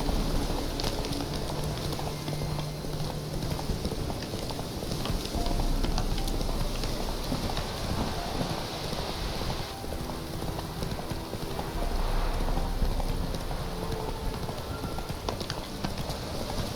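Roach, a horse in The Witcher 3, gallops through rain with steady rapid hoofbeats over a constant hiss of rainfall, loud and close for the whole stretch.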